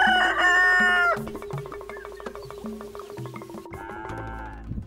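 Chickens on a farm crow and cluck close by, opening with a strong crow, followed by a run of rhythmic clucks and another crow near the end.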